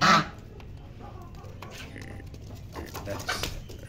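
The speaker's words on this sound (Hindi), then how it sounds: "डक्स भी आ गए और उनको भगा दिया है डक्स ने" Ducks quacking near a rooster and hens eating scattered rice in a backyard coop, a loud burst of calls at the start and then softer scattered quacks and clucks against steady outdoor background noise.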